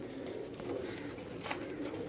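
Banka pigeons in a loft give soft, continuous low cooing against a steady background hum, with no talk over it.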